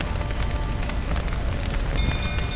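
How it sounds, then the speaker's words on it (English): Steady, dense rain in The Witcher 3 patters on surfaces, a constant close hiss of drops with no voices. "Looks like rain."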